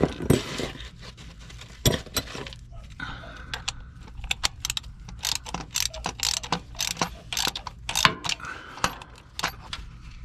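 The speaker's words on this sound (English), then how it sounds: "Ratchet this all the rest of the way." A ratchet wrench works a 10mm bolt loose on an old van, rapid clicking bursts mixed with metallic clinks and jangling tools, close and busy.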